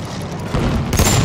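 Gunfire in the Battlefield 1 video game: a loud, close burst of rifle or heavy weapon shots crashes in, followed by a second blast, alone with no talk over it.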